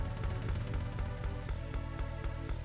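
Steady rain patters over a golf course in the Hot Shots Golf video game, a continuous soft wash with a low rhythmic game backdrop underneath.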